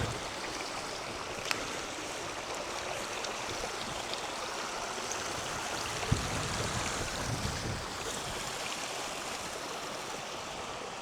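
A stream flows in a continuous, fairly loud rushing wash of water, steady throughout with no voices.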